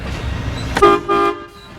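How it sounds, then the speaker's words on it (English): Two short horn toots from an RV in quick succession, close and loud, over a low rumble of road noise. "Can I honk at them?"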